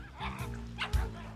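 A small dog yips and barks at pigs and ducks on a farm, a few short sharp barks mixed with whimpery yelps, fairly close and moderately loud over outdoor background.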